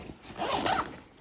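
Zipper on a JanSport backpack being pulled open or closed, a single quick raspy zip lasting about a second, close and fairly quiet with no talking.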